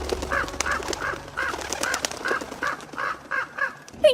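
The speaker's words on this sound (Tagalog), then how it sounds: "Biglang lumitaw ang malalaking uwak at sumunod sa amin." Large crows caw over and over in a steady series of about ten harsh calls, fairly close and loud, with a low hum of background noise beneath them.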